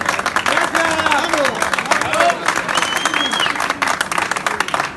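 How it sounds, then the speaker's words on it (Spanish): Crowd at a Santa Cruz carnival recognition ceremony applauds with steady, dense clapping. Excited voices call out and shout over the clapping throughout. "Y un fuerte aplauso."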